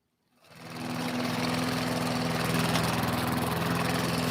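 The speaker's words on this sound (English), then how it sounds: "They'll be mowing their lawns" Lawn mower engine starting up from silence and settling into a steady, loud, droning run with a constant low hum, close by and without voices.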